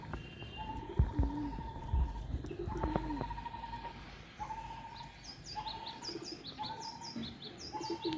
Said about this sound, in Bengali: এই যে আরো একটা কবুতর অসুস্থ দেখতেছি।